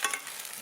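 Courgettes sizzle in a large frying pan, a close, steady frying hiss with a slight stir at the start, alone and without talk.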